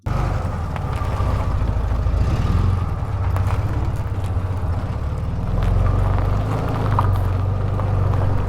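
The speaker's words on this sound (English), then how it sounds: "So we'll go without the narration, with just driving over gravel." A car rolls over gravel, giving a steady, loud low rumble laced with crunching crackle that continues without a break for several seconds, with no voices.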